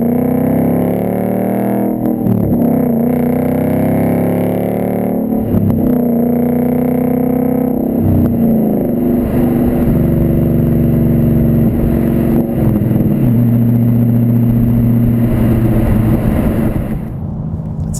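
A 2015-2017 Mustang GT with a Mishimoto race axle-back exhaust and 4.5-inch black tips pulls through the gears, its engine note rising steadily and dipping at each shift, loud and close with no talking.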